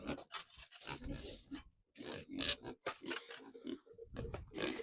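Soft, quiet piglet grunts and snuffles, repeated irregularly at close range with some rustling in the background.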